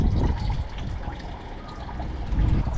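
Coolant drains from a Honda Civic during a coolant flush, a continuous close trickling and splashing of liquid that swells slightly at the start and end.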